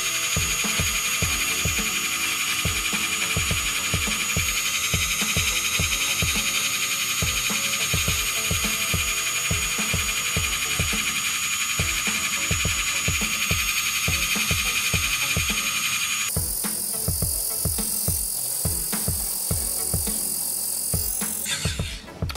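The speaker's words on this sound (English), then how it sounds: "So I got my sanding band in here, and let's just turn it on and see." A high-pitched MelodySusie electric nail drill fitted with a sanding band whines steadily at full speed, its tone shifting slightly near the end, with a low rhythmic thumping underneath.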